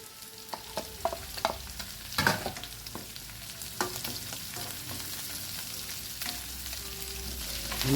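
Garlic and onions fry in a pan for Filipino beefsteak, with a continuous close sizzle broken by repeated scraping and clacking stirs, one louder spatter among them, and no voices.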